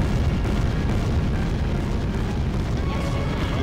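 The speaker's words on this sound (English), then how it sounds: "Dodge the carpet bombing!" Carpet bombing in the Little King's Story video game rumbles as a loud, dense, continuous barrage of overlapping explosions and booms, with no pause across the whole stretch.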